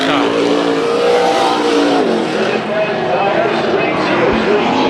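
Super Stock race cars roar around a track during a heat race, a loud continuous engine drone with shifting pitch as they pass, under a commentator talking throughout.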